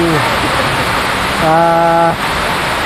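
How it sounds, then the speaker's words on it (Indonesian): Steady, loud rain hisses without a break, and a short voiced sound rises briefly over it partway through. "alhamdulillah kita menikmati hujan ini"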